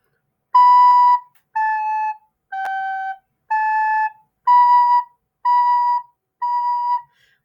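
Recorder playing seven separate sustained notes, B A G A B B B, each clean and evenly spaced with short gaps, close and alone without talk.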